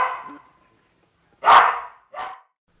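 Dogs at a dog rehoming charity give a couple of short, sharp barks close by, with a fainter bark or whine just before, and nobody speaking.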